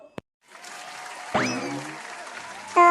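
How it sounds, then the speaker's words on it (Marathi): An audience at an Independence Day program claps after a patriotic song. Applause swells from a faint start into a sustained moderate clatter, with a brief sharp sound near the end. "आपण सर्वांनी टाळ्या वाजून स्वागत करूया"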